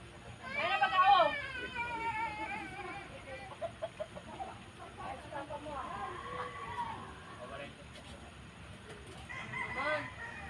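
A rooster crows loudly near the start with a long rising call, then fainter clucks and calls continue while people talk nearby throughout.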